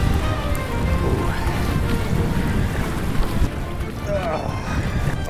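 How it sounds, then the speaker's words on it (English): Loud, steady wind buffeting a camera microphone on a snook fishing trip in Tampa, Florida, a constant low rumble and roar with faint voices underneath. "Sorry for all the noises on the camera. Wind is stupid."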